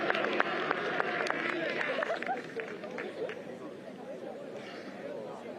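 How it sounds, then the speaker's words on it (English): A home crowd cheers in support of Kirikiriroa at a schoolboys' 1st XV rugby qualifier, a steady roar of massed voices with scattered claps, fairly distant and gradually easing off. "as they get a round of support here from their home crowd"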